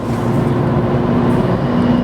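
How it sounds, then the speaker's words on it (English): Car fitted with an AWE Touring exhaust and midpipe accelerating onto a highway, a loud, steady engine and exhaust drone with broadband road rumble throughout, no voices. "And then you want to accelerate and you want to get on in a little bit, it screams."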